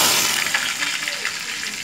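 Water sprayed onto burning melted wax erupts into a fireball, giving a loud broadband whoosh and hiss that crackles and slowly fades, close by.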